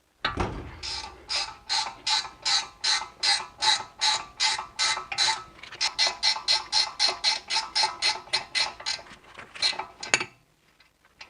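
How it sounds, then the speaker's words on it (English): Milwaukee ratcheting wrench turning a bolt during front lower control arm work on a BMW E46, a long steady series of crisp, evenly spaced clicks that stops abruptly near the end. "I also have these new ratcheting wrenches that Milwaukee sent me out."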